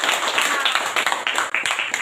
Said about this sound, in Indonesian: tepuk tangan buat teman kita dari kelompok 4